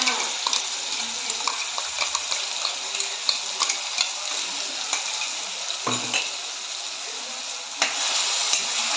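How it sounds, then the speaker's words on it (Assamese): A blended mixture for a milk paneer dish sizzles steadily in hot mustard oil in a karahi, a continuous crackling hiss with occasional sharper pops and brief stirring scrapes, close and fairly loud with no talking. "এতিয়া মই এইখিনি ভাজি আছোঁ আৰু মই ধুনীয়া এটা ৰঙা ৰং হোৱালৈকে এইখিনি মই ভাজি ল'ম"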